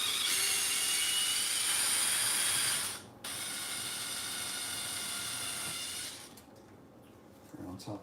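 Ratcheting clicks from a tool backing out screws on an XMaxx RC truck, a steady close mechanical buzz of pawl clicks lasting about six seconds with a brief pause midway, then quieter handling.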